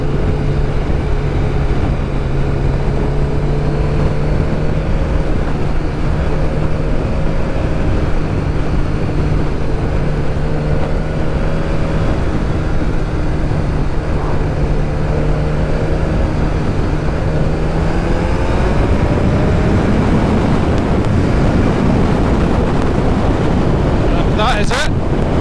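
A Kawasaki ZZR1100 motorcycle accelerates hard to overtake, its engine note climbing in pitch beneath loud, constant wind buffeting on the microphone.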